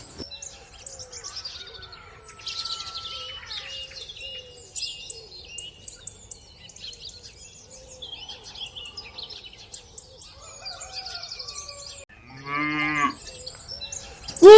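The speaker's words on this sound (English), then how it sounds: "This is cow." A cow gives one clear, drawn-out moo near the end, preceded by faint bird chirps and quiet farmyard sounds.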